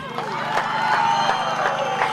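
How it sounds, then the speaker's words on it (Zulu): Crowd at a South African ANC political rally in Nkandla, KwaZulu-Natal, breaking into sustained clapping and cheering, a dense steady roar of many hands and voices filling the whole moment. "ngicela kunikeze ihlombe amadlozi kaKhongolose"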